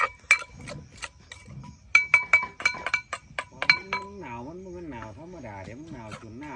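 Ice cubes clink against a glass in a Thai home kitchen, with a handful of sharp separate clinks in quick bursts near the mic. A sliding, wavering tonal sound follows them.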